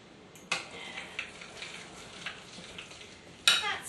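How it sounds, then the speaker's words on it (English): A cream cheese filling for stuffed onions being mixed in a bowl, soft scraping and stirring with a few sharp clinks of utensil against bowl, close and quiet with no talking. "Just want to mix it so it's all smooth."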